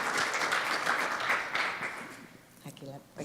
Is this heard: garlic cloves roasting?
no